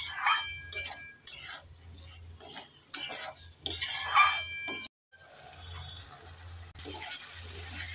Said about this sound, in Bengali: এবার নেড়ে চেড়ে মশলার সাথে আলুটাকে আমি 2 মিনিট ভালো করে কষে নেব।